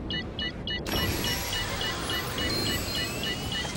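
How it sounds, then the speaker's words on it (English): In the game Star Citizen, a spaceship's landing gear retracts: a short run of repeated electronic beeps gives way to a sudden loud, steady mechanical whir and rumble that holds to the end. "Landing gear raised."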